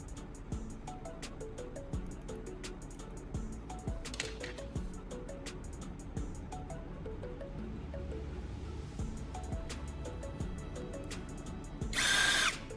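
A power drill bores holes into a piece of wood, steady high whine with repeated rising and falling motor pitches and a brief harsh burst near the end, close and alone.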